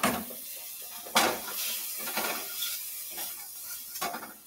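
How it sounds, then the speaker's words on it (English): A spatula scrapes and stirs chopped onion in a pan, producing repeated scraping strokes and clacks over a soft sizzle, close and clear with no talking. "And we'll get this onion cooked up."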